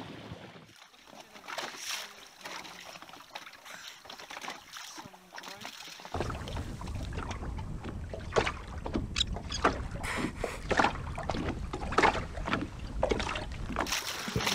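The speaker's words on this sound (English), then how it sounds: "Hear them just surfacing around the boat," Hector's dolphins surface near a boat with sharp, breathy puffs repeating over steady water and engine rumble, growing louder in the second half.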